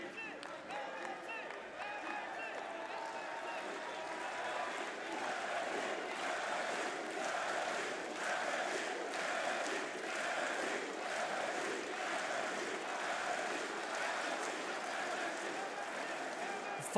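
Esports arena crowd at the Rainbow Six Munich Major roaring, cheering and clapping in a steady, dense wall of noise for the whole stretch, with no lulls.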